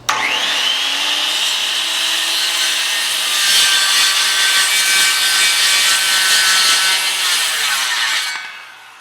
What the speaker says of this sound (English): go ahead and make the rip cut